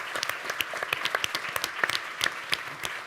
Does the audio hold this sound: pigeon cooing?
no